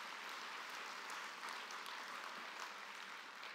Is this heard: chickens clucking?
no